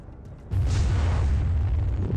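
A mech in the Xbox game MechAssault fires a warning shot from its weapons: a sudden heavy boom bursts in after a quiet moment and rolls on as a deep, sustained rumble.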